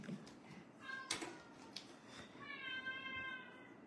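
A pet cat meows several times up close, drawn-out plaintive calls with a faint rustle beneath, and no talking.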